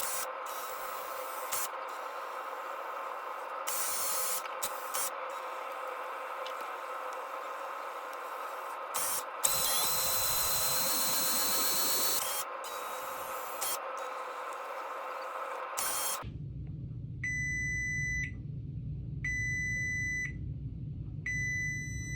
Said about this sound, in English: Here's a little ASMR of it printing up the color.